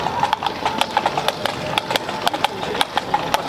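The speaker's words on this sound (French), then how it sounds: "Et donc, les chevaux, en marche." Horses walking, their hooves clip-clopping in a steady, fairly close rhythm of sharp knocks with a faint engine-like hum underneath.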